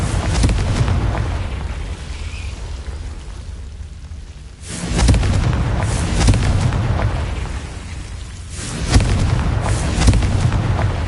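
Fiery Confringo blasting spell explosions from the Hogwarts Legacy video game on PS5, heavy booming bursts with rumbling low end, a big blast near five seconds and another near nine, over continuous loud battle noise.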